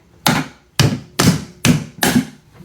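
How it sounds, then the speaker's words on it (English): Five sharp, evenly spaced knocks ring out as long-nose pliers or a screwdriver punch through a knockout hole, each hit loud and close with a short decay. "we're going to try and knock out this hole without damaging it"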